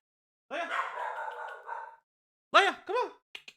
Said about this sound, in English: Why are you howling? Do you hear this dog?